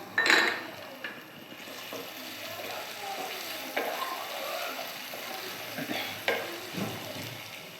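Chopped tomato hits hot masala in a pan for amudi fish curry in mustard-oil jhal style, giving a steady close sizzle broken by scraping spatula strokes and occasional clinks against the pot.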